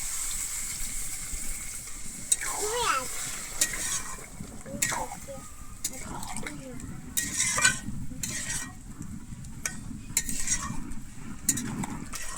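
Jackfruit and potato masala being stirred in a pan with water added, a steady sizzle and frying hiss under repeated scraping and clinking of a utensil against the pot, close and moderately loud.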